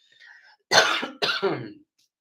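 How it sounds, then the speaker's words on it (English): Two harsh, close coughs in quick succession, the second breaking into a short rasp, after a faint breathy sound. "Sorry, I still have a little bit of a cough."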